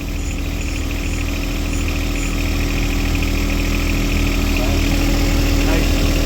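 A John Deere tractor fitted with a backhoe idles while backing up, its engine giving a loud, close, steady rumble that thickens slightly toward the end.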